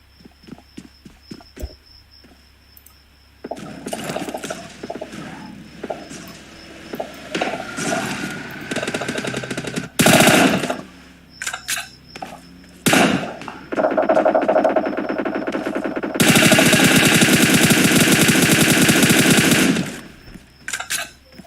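Bursts of video game gunfire, a team match among several players near a vehicle pile-up, with rapid automatic volleys and sharp single shots repeating loudly through the scene, ending in a long sustained barrage.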